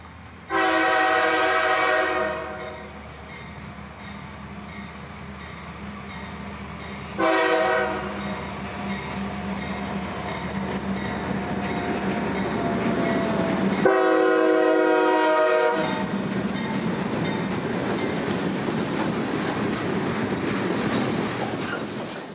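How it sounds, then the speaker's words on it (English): Freight train L770, the daily Mulberry switcher led by a single ES40DC locomotive running long hood forward, blows its horn in long blasts as it rumbles past with a steady roll of wagons. "Our train would be L770, the daily Mulberry switcher, today with the solo ES40DC leading long hood forward."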